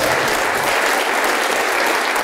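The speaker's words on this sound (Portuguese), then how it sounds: "vamos aplaudir mais ao nome de Jesus" A church congregation in a televised service claps loudly and continuously, a dense even roar of many hands that fills the room without a break and with no voices standing out.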